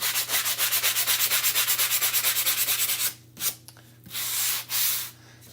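Rhythmic back-and-forth sanding rubs the edges of a chalk transfer, steady strokes for about three seconds, then a few separate louder scrapes with short pauses between them, close by with no talking.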